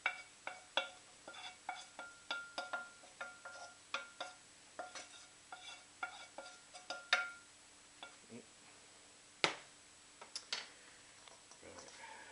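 A utensil stirs caramelised onion cooked in butter and olive oil in a pan, with a steady run of light scraping taps and clicks, close and quiet, and brief talk over it.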